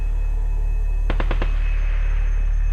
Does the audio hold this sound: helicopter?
no